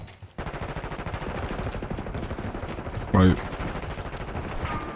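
Gunfire in the Black Ops 6 video game, with an AS VAL rifle, crackles steadily through a busy match mix, with a louder burst near the middle and a voice briefly speaking.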